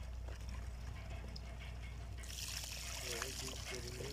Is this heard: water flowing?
yes